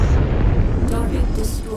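A target in MechWarrior 5 blows up in a loud, heavy explosion with a thick low-end rumble that fills the moment, while a voice speaks over it.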